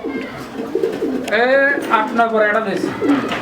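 Pigeons, including white racers, coo in soft, repeated throaty calls close by at a pigeon sale while someone talks over them.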